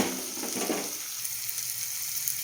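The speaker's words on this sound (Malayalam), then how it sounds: "അപ്പോൾ ഇതൊന്നുകൂടെ ഇളക്കി യോജിപ്പിച്ച് വഴന്ന് വരട്ടെ" Spice masala sizzles in a pan while being sautéed for a cauliflower dish, a loud hiss at first that settles into a softer steady crackle, with no voices.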